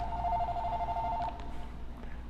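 A telephone rings with a steady electronic two-tone trill for just over a second, then stops, leaving quiet room noise with a couple of faint clicks; no voices.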